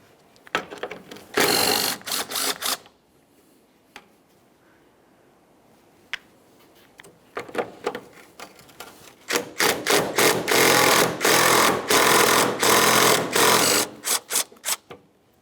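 A ratchet backs out 10mm headlight bolts on a 2012–2018 Nissan Altima, with loud rapid clicking in several runs separated by pauses, the longest burst coming near the end, close and with no talking.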